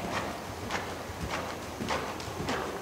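Horse hooves clip-clopping at a steady walking rhythm in an arena during a riding lesson on a schoolmaster event horse, about five evenly spaced footfalls, moderately close with a low background hum and no talk.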